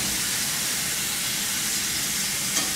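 Pork searing in a hot pan for a pork and sauerkraut crock pot meal, a steady broad hiss of sizzling fat, close and even, with one small knock near the end and no talk.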